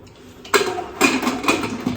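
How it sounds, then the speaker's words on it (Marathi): A few sharp metallic clanks, close by, as a pressure cooker pot and lid are handled and set in place. "आता कुकर लावते"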